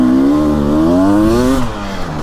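A 300cc two-stroke dirt bike on a woods trail loop revs up strongly, its buzzing engine note climbing steadily in pitch for about a second and a half before easing off, loud and close with no talking.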